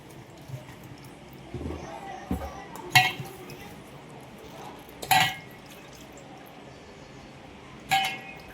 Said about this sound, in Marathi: मस्त आपले हे शेवग्याच्या शेंगा आपण धुवून घेऊ